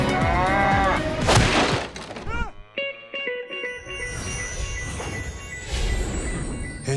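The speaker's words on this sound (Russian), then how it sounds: "У нас бык взбесился." An enraged bull bellows with loud, drawn-out moos at a rural Armenian wedding, heard alongside a brief crash, shouting voices and busy crowd noise.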